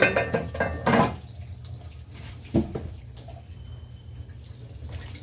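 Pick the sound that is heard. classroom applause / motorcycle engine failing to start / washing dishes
washing dishes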